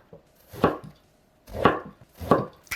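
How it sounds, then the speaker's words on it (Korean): A knife cuts eggplant into thick pieces on a board, with three separate firm chops, each a short crisp thud, spaced about a second apart in a quiet kitchen with no talking. "가지의 꼭지 부분은 잘라내고 두툼한 두께로 썰어줄게요."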